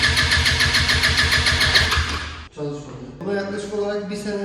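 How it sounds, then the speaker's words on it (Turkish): A Kymco Agility 125 scooter engine, run again after sitting unused for a long time, fires up and runs with a steady rapid putter. It cuts out abruptly midway, then restarts into a rougher idle, loud and close. "Ama ilk önce motosikleti uzun zaman sonra çalıştırmayı deneyeceğiz."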